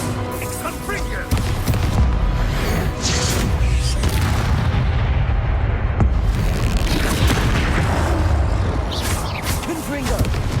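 Repeated Confringo fire-spell blasts in the Hogwarts Legacy video game, loud booming explosions layered over a dense, continuous rumble of combat effects and game voices throughout.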